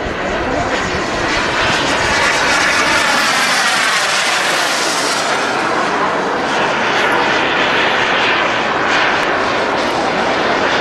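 A Fly Eagle Jet F-18F Super Hornet model jet, a Sky Model 127 with a 1.95-metre span, flies at the Jet Power 2009 airshow, its turbine roar loud and continuous with a sweeping pass.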